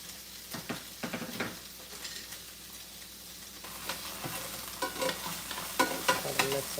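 Plantains and shallots sizzle as they pan fry in shallow oil in a non-stick pan. A utensil stirs and scrapes them in irregular bursts, close up, over a steady frying hiss.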